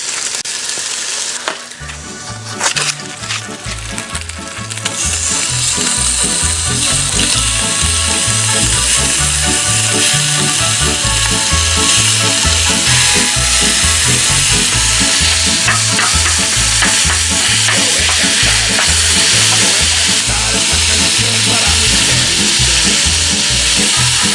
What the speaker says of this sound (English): I'm gonna go ahead and get the bacon in, let that start rendering.